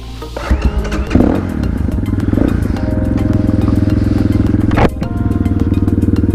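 A loud GPX Moto FSE 250e motorcycle engine runs close by, rumbling steadily with a brief rev and a short dip near the end.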